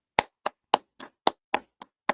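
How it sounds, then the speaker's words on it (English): Eight sharp hand claps in a steady rhythm, close and fairly loud, each a crisp isolated smack with brief gaps between, offered as applause for Jay-Z. "Let's give Jay-Z a round of applause, y'all."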